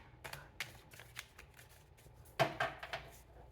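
Tarot cards being shuffled by hand, close and quiet, in several short riffling bursts with a sharper, louder shuffle near the end.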